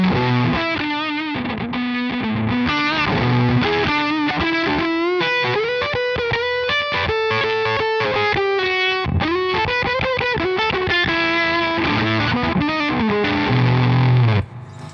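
An electric guitar runs through gained-up Marshall-style distortion, playing a thick, sustained lead line with bent notes and chords over about fifteen seconds, loud and close, with no talk.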